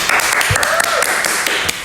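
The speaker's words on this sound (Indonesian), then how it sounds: "Tepuk tangan dulu dong." A small group applauds a mini soccer tournament winner, scattered hand claps over a continuous bed of clapping, close and lively, with a voice talking briefly over it.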